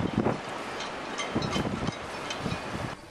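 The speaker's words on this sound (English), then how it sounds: "to prove how cold and windy it was here." Cold wind roars across the microphone in gusts in the Médoc, France, with a constant broadband rush and a few sharper buffets throughout.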